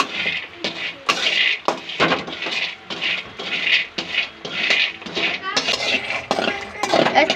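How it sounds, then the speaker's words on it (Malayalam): Chickpeas dry-roasting in a pan, giving a busy, continuous rattling and scraping clatter with repeated sharp metallic clinks as they are stirred and tossed, loud and close throughout. "നമുക്ക് കട ഒന്ന് പാനിൽ വറുത്തെടുക്കാം."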